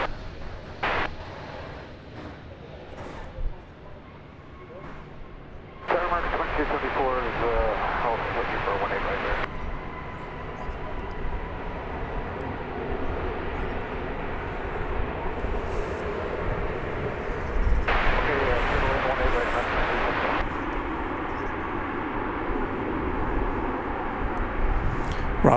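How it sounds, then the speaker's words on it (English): An airliner arriving from New Orleans at DFW Airport rumbles by as a swelling engine roar, with louder surges midway and later, while people talk over it. "Here comes a flight from New Orleans"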